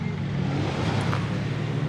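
A Peugeot 208 GTI engine runs at a steady idle, a dense low rumble with constant loudness, close by, with no change in revs over the short stretch.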